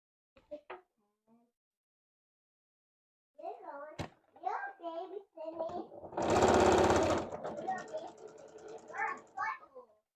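A sewing machine stitches close along the edge of a qaspeq vest in one loud sustained run of rapid needle clatter, with children's voices chattering before and around it.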